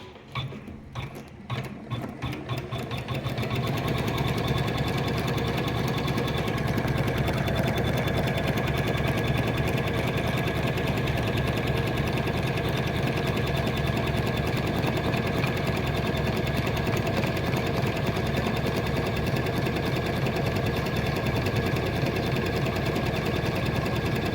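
A computer embroidery machine stitches on net cloth with a loud, continuous, rapid mechanical rattle that settles into a steady drone after a few uneven starting bursts, close by and with no talk.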